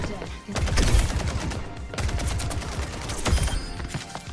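Rapid bursts of gunfire from an Overwatch match, with dense layered shots and impacts running throughout, loud and close in a busy game mix.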